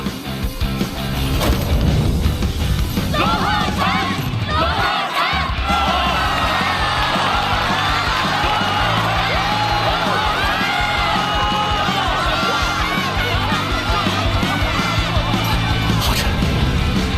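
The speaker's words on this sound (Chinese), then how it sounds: "团长，去迎接你的喝彩吧！" A large animated crowd roars and cheers continuously at a grand tournament, a dense loud wall of voices with whoops and battle cries that swells early and holds steady over backing music.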